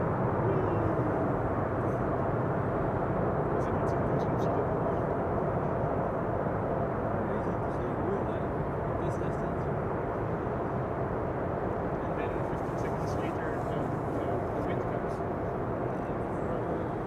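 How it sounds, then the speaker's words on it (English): Thrust reversers on an airliner landing at Schiphol make a sustained, even low roar of engine noise, with a voice talking over it. "there's the reversers"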